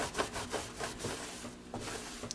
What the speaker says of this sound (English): So I use brake clean, and that'll get rid of any kind of oil and residue on there.